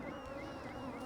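Bees buzzing densely around a beekeeper at an open hive during a varroa mite treatment, a steady close droning hum with shifting wingbeat tones and no talking.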